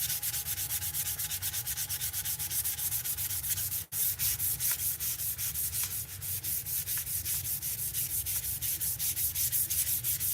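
A microfiber cloth rubs back and forth over wood freshly sanded with 400-grit paper, clearing off sawdust before varnishing. The strokes come as a steady, close, even scratchy swish, with one brief dropout partway through.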